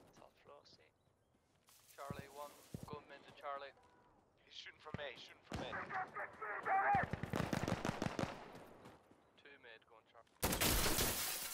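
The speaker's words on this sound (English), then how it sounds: "Shooting from A." Gunfire in the video game Insurgency Sandstorm, bursts of rapid shots mixed with loud blasts, heard amid players talking over each other, with a loud burst closing out.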